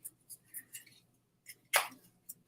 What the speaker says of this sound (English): All right, Dale, I am shuffling for you